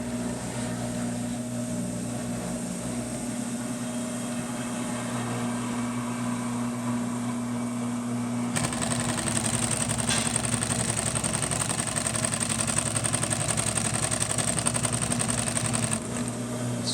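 A large-bobbin industrial sewing machine with an Efka servo motor stitches webbing at about 700 RPM. A low motor hum gives way midway to a loud, steady, rapid whirring of the running needle.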